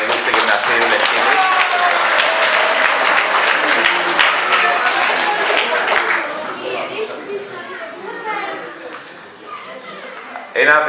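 An audience at a Greek sports club's pie-cutting event applauds a school club president with loud, dense clapping for about six seconds, then thins into scattered claps among crowd chatter and children's voices.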